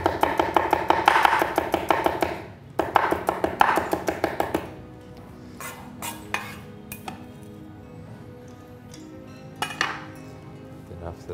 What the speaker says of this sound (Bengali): ছোট যে পেঁয়াজটা দেশি পেঁয়াজ বলি সেই পেঁয়াজটাকে কুচি করে নিচ্ছে